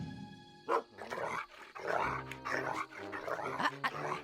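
A dog barks several times in short, sharp bursts, fairly close, with no talking over it.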